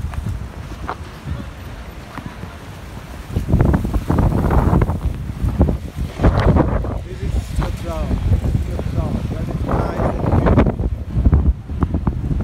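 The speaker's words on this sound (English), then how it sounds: "Too much wind, guys, as you can see." Strong coastal wind near Cape Town buffets the microphone in loud, gusty rumbling bursts, rising and falling across the recording with faint sea sounds beneath.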